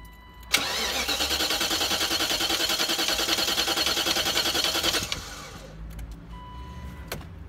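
A BMW E34 540i V8 starting after a chain tensioner replacement: a brief starter crank catches into a loud steady engine run for about four seconds, then shuts off, leaving faint clicks and background noise.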